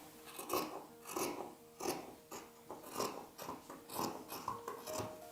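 Fabric is cut with scissors along a smooth armhole curve for a little girl's dress: a close, rhythmic series of rasping snips, about ten strokes in steady succession at a quiet level.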